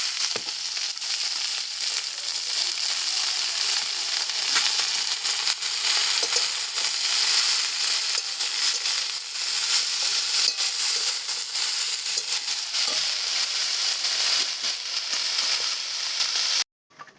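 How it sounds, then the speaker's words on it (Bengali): Leafy greens frying in a pan give a loud, continuous hissing sizzle with faint crackles, steady for the whole stretch and then cut off abruptly, with no talking. "এখন এই শাক ভাজা করব।"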